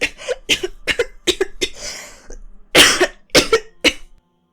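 A woman coughs repeatedly and harshly, in several bursts with short gaps, close and loud, with some throat-clearing between the coughs.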